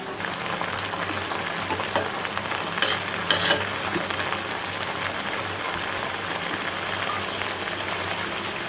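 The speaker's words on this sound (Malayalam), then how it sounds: "ഇനി വെള്ളം വറ്റി കഴിയുമ്പോൾ നമുക്ക് കടുക് വറക്കാം" Mustard seeds frying in a pan give a steady crackling sizzle with a few sharper pops and spits midway, close and continuous throughout.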